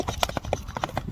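A horse's hooves clip-clop in a quick, uneven rhythm at close range for about a second, with faint voices in the background.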